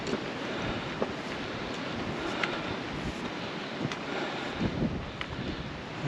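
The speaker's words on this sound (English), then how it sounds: "Very breezy along here." Wind blows steadily along an outdoor path by Grisedale Beck, a continuous broad rushing noise buffeting the microphone with a few faint knocks.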